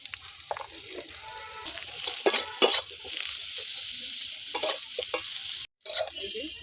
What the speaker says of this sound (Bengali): গরম হয়ে গেছে, বেগুনগুলো ভেজে নেব।